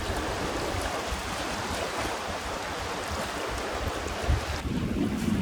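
Strong wind gusts buffet a sailing boat off the end of an island, a steady loud rush of wind noise and water over the microphone with no talk.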